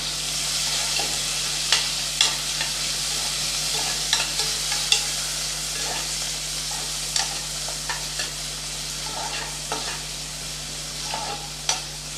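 Sliced onions sauté in a pan for tomato rice, a steady broad hiss with repeated sharp scrapes and taps of a spatula stirring at irregular intervals, close and alone.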